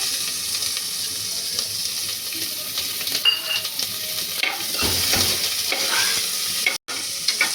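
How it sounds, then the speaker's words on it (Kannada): Onions fry in hot oil with pulao spices for home-style chicken biryani, a steady close sizzle with stirring scrapes and brief clinks throughout. "ಈರುಳ್ಳಿ ಸ್ವಲ್ಪ ಬ್ರೌನ್ ಆಗೋವರೆಗೂ ಫ್ರೈ ಮಾಡ್ಕೊಳ್ಳಿ."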